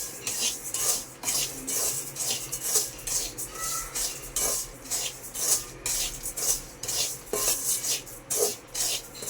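Raw peanuts, about 250 grams, are stirred in a dry pan as they roast, giving a steady scraping, rattling shuffle of nuts against metal that repeats in close, continuous strokes with no talk.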